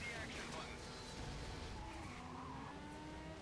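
A car in Stuntman: Ignition drifts with screeching, skidding tires and a straining engine, under steady talk from a man.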